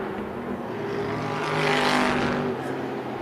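Modified race cars roar around Tucson Speedway in a loud, sustained engine drone that swells as a car passes nearby and then fades slightly.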